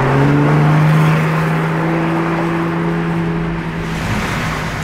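A blue Ferrari 296 drives past with a loud, close engine drone that holds steady and then slowly fades as it moves away.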